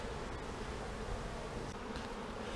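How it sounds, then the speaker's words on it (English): Honey bees buzzing around a frame from a productive beehive, a thick, continuous close-up drone of many insects with no talking. "As I said, I really got to keep an eye out on this beehive. They're very productive."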